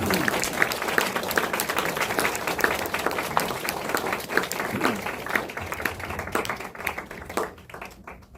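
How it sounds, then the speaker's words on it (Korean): Congregation at a Korean-American church Sunday morning worship applauds steadily, a dense, close wash of hand claps sustained throughout before tapering off at the end. "할렐루야 함께 영광의 박수를 드리겠습니다"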